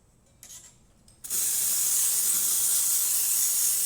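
Steam wand on a Lelit Mara X espresso machine, freshly serviced with a replaced safety valve, bursts into a loud, steady close-up hiss after a few faint puffs, then holds at full force.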